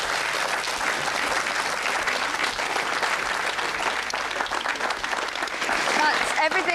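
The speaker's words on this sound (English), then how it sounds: "A round of applause for our guests" Studio audience applause for guests at the close of a late-night live television show, a steady, fairly loud wash of clapping with voices mixed in throughout.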